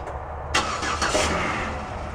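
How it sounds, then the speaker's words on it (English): A car engine cranks and catches in snowy winter weather on a snow-covered driveway, a brief starter whir followed by a steady idle rumble, close and alone. "I'll be warming this car up."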